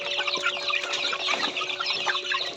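Native chickens clucking in a coop or yard, several overlapping soft clucks and chatter continuing steadily at close range, with no voices.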